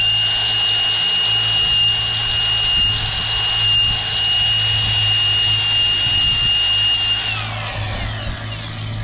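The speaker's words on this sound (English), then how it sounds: "take my grinder and hit all these depth gauges just ahead" A grinder runs continuously at close range with a steady whine and low rumble while chainsaw depth gauges are touched down, winding down near the end.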